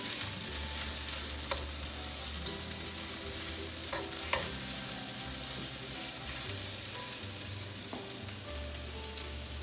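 Tempeh, veggies and matchstick carrots are stir-fried in a wok, a steady close sizzle with occasional scraping and clinking of a utensil stirring the pan.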